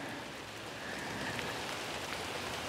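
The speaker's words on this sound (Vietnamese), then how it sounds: "bữa nay trời mưa dầm về lắm các bạn" Steady, prolonged drizzling rain falls as a soft, even hiss of drops, faint and continuous throughout.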